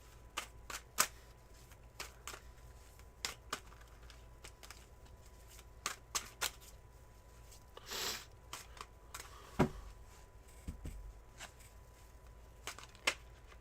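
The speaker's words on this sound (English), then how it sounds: "I'm going to just do a cleansing shuffle real quick" Tarot cards are shuffled in short, crisp bursts of riffling and snapping, scattered irregularly over a quiet room with no voices.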